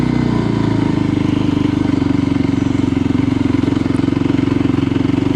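A motorcycle engine pulls steadily in second gear on an unpaved, flood-damaged trail in Spain, a continuous loud, even drone with a rapid firing pulse, close and unbroken from start to finish.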